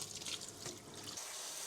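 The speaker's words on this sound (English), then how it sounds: "So I'm just gonna do a little quick rinse here." A kitchen sink tap runs for a quick rinse, a steady close hiss of flowing water with some splashing, moderately quiet and alone.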